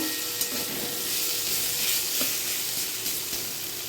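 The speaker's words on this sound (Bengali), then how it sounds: "আলুটা দেখো লাল লাল ভাজা হতে শুরু করে দিয়েছে, আর একটু ভেজে নেব।" Potatoes fry with turmeric in a pan, giving a steady, close sizzle with a few soft stirring scrapes and no talking.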